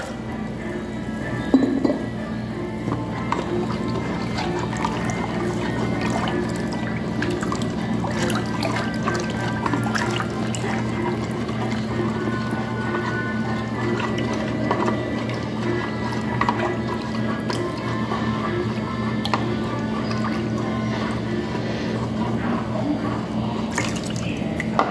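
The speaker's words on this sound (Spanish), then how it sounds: "Le agrego el agua helada." Ice water poured into a mixture in a kitchen, with faint clinks of ice and trickling liquid over a steady low background hum.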